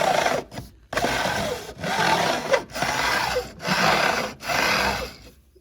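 A metal file rasps at an angle along the fret edges of a guitar neck in a factory workshop, close and moderately loud, in about six even back-and-forth strokes separated by short pauses.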